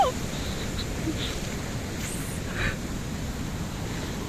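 Steady rush of ocean surf with wind buffeting the microphone, a continuous broad roar with a slightly louder swell midway.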